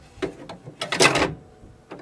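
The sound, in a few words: HP Envy printer ink cartridge clicking into place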